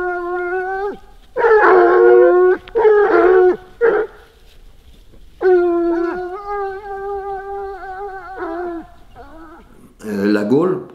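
Hunting hounds baying and howling in long, loud, drawn-out tones, several voices overlapping with short pauses between bursts, ending in a higher yelping cry.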